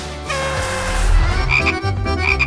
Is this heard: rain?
no